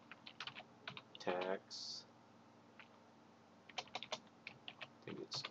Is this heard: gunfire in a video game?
no